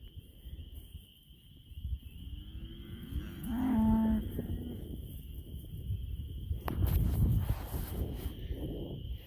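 Cows on pasture give a couple of low moos, one louder and nearer at mid-clip, over a steady insect drone and outdoor rustling at sunset.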